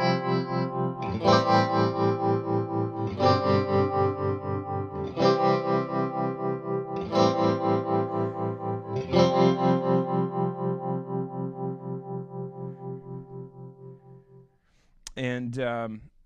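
A Flux Effects Liquid Tremolo set to a smooth, warm waveform pulses a sustained guitar chord in steady rhythmic throbs, with fresh strums roughly every two seconds, fading out before a brief burst at the end.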